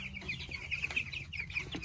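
Three-week-old meat bird chicks in a brooder with wood shavings and heat lamps, a continuous chorus of soft peeping and clucking, close and steady, with no talking.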